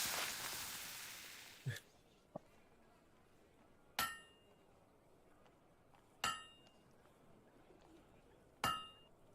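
Hammer blows in the video game Fable II, four sharp metallic clinks spaced about two seconds apart, each ringing briefly after a faint tap, heard fairly close over quiet background.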